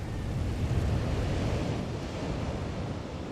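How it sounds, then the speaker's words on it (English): Storm-driven ocean waves crashing over the marina seawall at Redondo Beach, a continuous broad roar of surf and wind rumble, steady and fairly distant, with no voices. "these are some of the waves that we've been watching crash over the seawall from the marina here in Redondo Beach"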